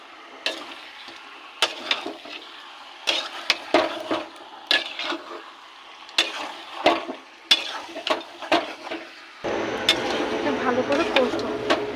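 Chicken do piyaza stirred and fried in a pan, with repeated scraping stir strokes and a steady sizzle that swells louder near the end; a voice talks over it.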